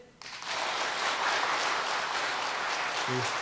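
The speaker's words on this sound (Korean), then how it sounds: "힘있게 박수로 좀 환영해 주시기 부탁드립니다" A church congregation breaks into strong applause to welcome a pastor, the clapping swelling quickly and holding as a dense, even roar until a brief voice at the end.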